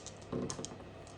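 Attack dice clatter briefly across a table during a board game of Lonely Nights with the Ancient Oonah expansion, a quick, quiet burst of small hard clicks heard close by.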